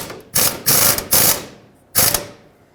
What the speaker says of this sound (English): I'm going to go back to this one, on which I have my air gun.